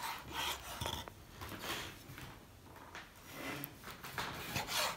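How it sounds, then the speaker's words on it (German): A knife slices chicken into small strips on a board for wraps, making quiet, repeated rubbing and scraping strokes at an uneven rhythm, close by and soft. "Jetzt schneiden wir hier unser Hühnchen so in kleine Stückchen."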